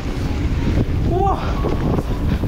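A strong headwind buffets the microphone while mountain biking an open trail section in Rotorua, a steady loud low roar and rumble throughout the short stretch with no talk.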